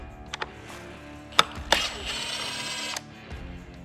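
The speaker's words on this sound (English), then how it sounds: "we're going to have an 8mm screw. I'm going to go ahead and remove that." A ratchet backs out an 8mm screw on a Can-Am Maverick X3 during a light install, giving a few sharp clicks and clacks followed by a short run of close mechanical ratcheting.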